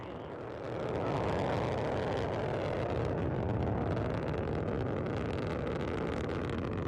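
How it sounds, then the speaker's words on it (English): Soyuz booster climbing away from the Baikonur Cosmodrome on the Progress MS-30 cargo launch, a loud, steady broadband rocket roar that swells within the first second and then holds constant throughout. "The Soyuz booster arcing out to the northeast from the Baikonur Cosmodrome"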